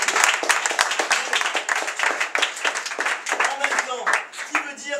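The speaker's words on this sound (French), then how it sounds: "Applaudissez-vous." A stand-up comedy audience at a café-théâtre claps for itself, a lively burst of many hands close and loud with scattered cheers and voices mixed in before it thins toward the end.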